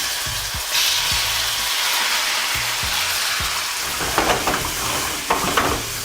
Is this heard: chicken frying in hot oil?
yes